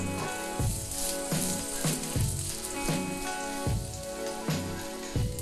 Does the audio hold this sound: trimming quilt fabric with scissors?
no